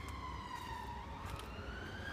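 Level crossing sirens at Furness Vale sound faint and distant, a continuous wailing tone that slowly shifts in pitch over low background rumble.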